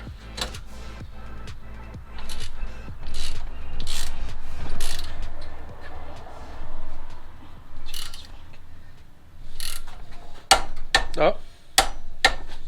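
A torque wrench ratcheting and clicking during a C60 transmission install on a Pontiac Vibe, with clusters of metallic ratchet clicks and sharper click bursts near the end between stretches of close talking.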